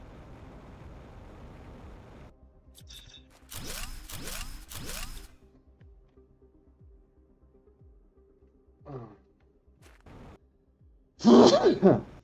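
A person gives a sharp sneeze near the end, alone, after quiet stretches holding soft breathing and shuffling sounds.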